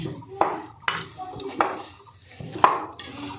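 Hands knead a dough of flattened rice and oil in a metal plate, giving a few distinct knocks and clanks against the plate, spaced irregularly over several seconds between quieter rubbing and pressing sounds.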